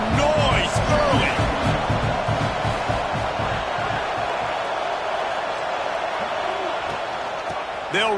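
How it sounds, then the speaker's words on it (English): A stadium crowd roars continuously at a Florida versus West Virginia college football game, a dense, loud wash of cheering, with a voice briefly speaking over it near the start. "This crowd bringing the energy and noise early."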